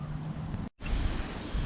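Wind buffets the microphone outdoors on the Cape Breton coast, a steady low rushing roar with a brief dropout partway through, no voices over it.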